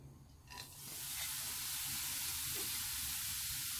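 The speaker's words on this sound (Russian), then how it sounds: "И обжариваю на быстром огне." Zucchini strips hit a hot pan and a steady, loud sizzle and frying hiss takes over, continuing evenly over high heat without speech.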